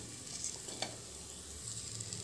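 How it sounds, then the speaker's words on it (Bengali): Rice with spices and salt being stirred in a pressure cooker pot for vegetable masala rice, a low continuous sizzle with a single spoon scrape near the middle, nearby and fairly quiet. "লবণ দিয়ে আবারও একবার নেড়ে চেড়ে মিশিয়ে নেব।"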